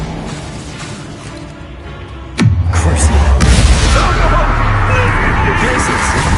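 A Bombarda spell in Hogwarts Legacy: a sharp descending whoosh ends in a heavy blast about midway, followed by a sustained low rumble and crackling debris over background noise.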